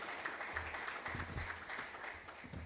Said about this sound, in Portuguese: a quem peço a salva de palmas